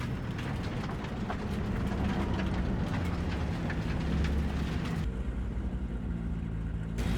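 A train travels with a steady, loud rumble and rattle of wheels on track that holds the whole way through, turning briefly duller in tone near the end.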